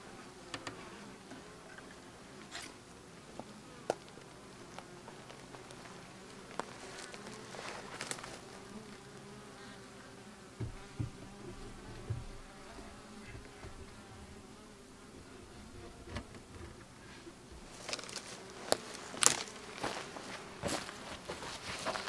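Honey bees buzz steadily around an opened beehive during a hive check, a dense continuous drone with occasional close fly-bys and light handling thumps and footsteps nearby.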